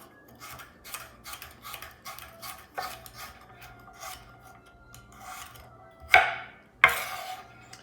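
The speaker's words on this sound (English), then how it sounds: "I'm just finishing cutting up some carrots." Carrots being cut up on a board, a series of close rasping, scraping knife strokes at an uneven pace, ending in two louder sharp chops, with no talking.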